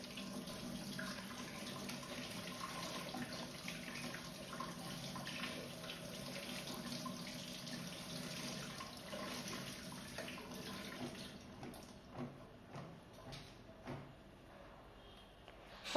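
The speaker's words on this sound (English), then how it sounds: "Now wash well with running water or salted water." Onions and green chillies are rinsed under a running kitchen tap, a steady close stream of splashing water that continues for most of the time, then breaks into a few intermittent splashes and handling sounds near the end.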